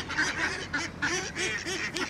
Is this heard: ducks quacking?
yes